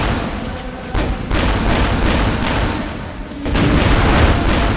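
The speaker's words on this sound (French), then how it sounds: "Les feux roulants commencent et on monte à l'assaut." A World War I rolling barrage at Vauquois, 1916: continuous gunfire and artillery thuds rumble together in a dense, relentless barrage, with repeated sharp bursts hammering over a heavy low roar.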